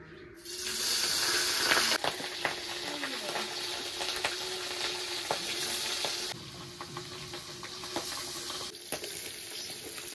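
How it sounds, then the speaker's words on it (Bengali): Small fish frying in hot oil, a loud continuous sizzle with sharp crackles and spits throughout, the intensity shifting as the pieces are moved around. "ওদিকে মাছগুলো ভাজা হচ্ছে"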